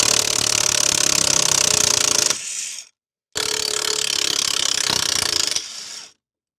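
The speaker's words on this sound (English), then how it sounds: "caliper's coming off. 1/2 inch tight reach." A ratchet wrench spins rapidly in two long bursts with a short pause between, loud and close, while removing a brake caliper from a Ranger boat trailer.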